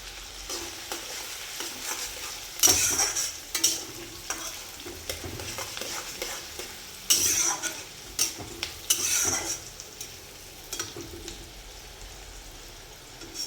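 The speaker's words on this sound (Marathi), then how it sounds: "कांदा गुलाबी रंगाच्या येईपर्यंत परतून घ्यायचा आहे।" Onions and green chillies sizzle in a pan, with bursts of spatula stirring and scraping against the metal rising over a steady frying hiss, close and fairly loud.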